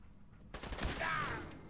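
Gunfire in the video game Fallout 4: a burst of game shots breaks in after a quiet moment, a dense rattling volley that rings on and fades slowly, close and loud, with no talk over it.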